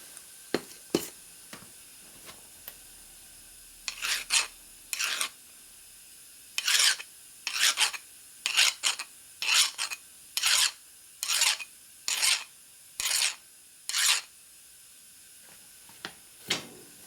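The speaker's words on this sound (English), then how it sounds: "So we need to do a little friendly filing on the edge of that." Metal file rasping a burr off the edge of a part during a 1980 Harley-Davidson Shovelhead 92ci top-end rebuild, about a dozen short, sharp back-and-forth strokes in irregular bursts, close and clear with no talking.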